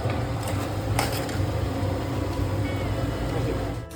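Cooled, separated cooked rice tossed into a hot pan for chicken Schezwan fried rice, giving a loud, steady sizzle with stirring and scraping noise close by.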